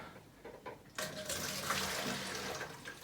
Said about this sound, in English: Now I'm going to add some vinegar to the bottle, and this is where the funnel comes in handy.